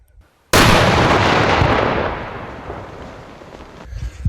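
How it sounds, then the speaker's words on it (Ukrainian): A sudden loud blast as police bomb technicians in Zaporizhzhia destroy two anti-tank mines, a sharp onset followed by a long rumbling decay that fades over several seconds. "Вибух!"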